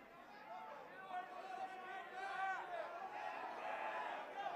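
A crowd murmurs with anticipation at the World Series of Beer Pong final, a steady babble of many voices that swells slightly, with nearby talk mixed into the hubbub.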